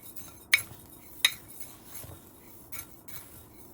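Rice, mung dal and red lentils being mixed in a bowl, a few sharp clinks of a utensil against the bowl among soft scraping and rustling, close and quiet.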